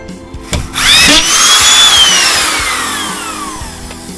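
A Makita screwdriver drives a screw into gypsum board, its loud motor whine rising sharply and then slowly falling in pitch as the screw seats, close up with no talking.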